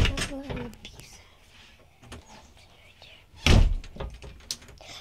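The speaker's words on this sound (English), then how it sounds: "I gotta close the door." A door shuts with a solid thunk, preceded by soft, hushed voices and light shuffling nearby.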